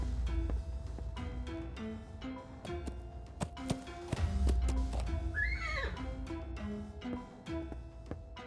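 A horse in the video game Willy Morgan and the Curse of Bone Town whinnies with a rising, wavering call midway through, amid steady hoofbeat clip-clops and a repeating low musical tone.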